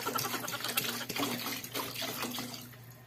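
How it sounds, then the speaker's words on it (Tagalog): Water pours from a container into a cooking pot with chili peppers in a simple provincial Filipino dish, a splashing, gurgling stream that fluctuates and tapers off near the end. "Lagyan natin ng isang container na tubig."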